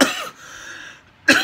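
A single person coughs after eating spicy lime and chili Doritos Flamas: a short harsh burst, a raspy breathy tail, then a second sharp cough close to the mic.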